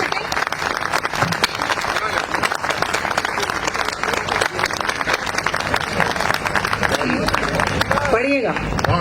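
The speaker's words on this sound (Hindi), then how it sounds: "एक बार जोरदार तालियां बजाइए ताकि उनको फिर से हौसला मिल सके" Loud, sustained applause from an audience at a poetry or ghazal gathering, thick continuous clapping filling the whole stretch, with a voice rising briefly near the end.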